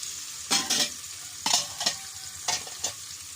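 Pork ribs frying in a pan, heard as a soft steady sizzle broken by three pairs of sharp scraping bursts as the meat is stirred, each burst brief and close.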